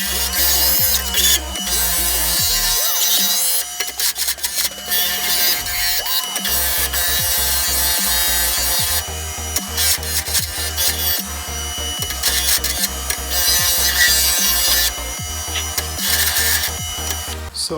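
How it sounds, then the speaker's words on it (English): A power grinder runs loud and steady, smoothing uneven cut edges on metal pieces for an industrial cloud-shaped toilet paper rack, with rasping contact noise that rises and eases as it works the workpiece. "use this grinder here to get rid of the uneven cuts that I made when I did this"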